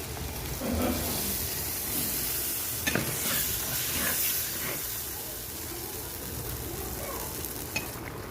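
Coconut milk going into a prawn curry in a clay pot, a steady sizzling hiss with stirring scrapes and a few sharper clinks, close and fairly quiet, with no talk.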